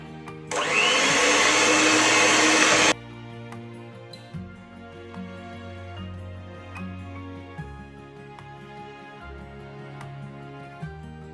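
An electric beater whirs loudly through plum cake batter in one steady burst of about two seconds, then cuts off, leaving a quieter tonal background.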